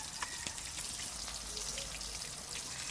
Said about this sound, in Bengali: মাছ ভাজা বসিয়ে দিয়েছি, এবার মশলাটা করে দিই